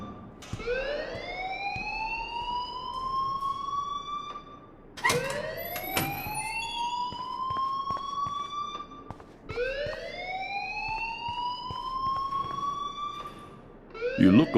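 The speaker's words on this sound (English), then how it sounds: "please turn off that alarm since that's your job" An alarm in the video game Life is Strange sounds three times in a row. Each cycle is a loud rising electronic wail, and no voices are heard.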